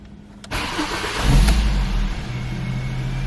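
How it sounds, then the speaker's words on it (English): A 2007 Ford Focus Mk II engine cranks and fires after a steering angle circuit repair, catching with a sharp burst and then settling into a steady idle. "now, when we start the car,"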